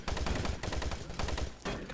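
Rapid automatic gunfire in the first-person shooter Doom 3 during a co-op session, a dense burst of loud shots with a brief gap before another volley, filling the whole moment.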